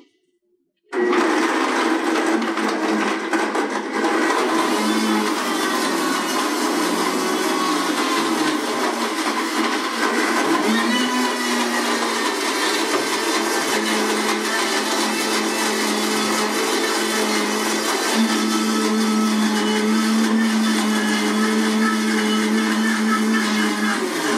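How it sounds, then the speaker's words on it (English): A blender starts abruptly and runs loud and steady for over twenty seconds, its motor whine shifting slightly in pitch as a thick soaked-almond mixture churns. "So my blender always stops at 60 seconds."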